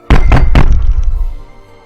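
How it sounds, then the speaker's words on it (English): Three heavy, close knocks slam against a door in quick succession, each a loud booming thud, followed by a fading resonant rumble. "3 heavy knocks slammed against my door, causing it to bounce off of the wall"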